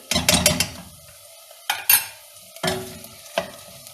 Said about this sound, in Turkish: Salçamı soğanlarla beraber kavurmaya devam ediyorum.